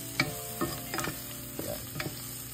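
Onions sautéing in a pan are stirred with a utensil: about five separate scraping strokes spaced a half second apart over a soft background sizzle, close and fairly quiet, with no talking.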